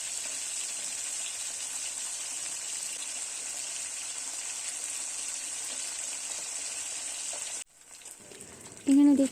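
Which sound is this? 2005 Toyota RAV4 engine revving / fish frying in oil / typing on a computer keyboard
fish frying in oil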